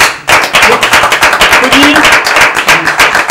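Studio audience clapping together during a French football talk show, loud, dense, steady applause with crowd murmur and voices mixed in, running throughout.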